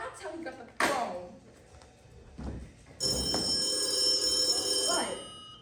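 A telephone rings on a theatre stage during a high school musical production, a sustained bright electric ring lasting a couple of seconds after scattered stage talk and bumps.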